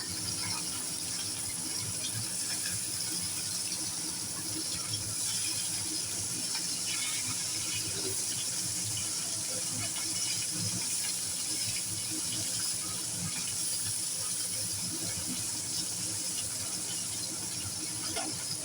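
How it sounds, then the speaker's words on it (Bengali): Parshe fish rubbed with salt and turmeric fry in hot oil with a soft, continuous sizzling hiss that holds evenly throughout. It is fairly quiet, with faint crackles and no talking. "এখন আমি মাছগুলোকে ভেজে দেবো"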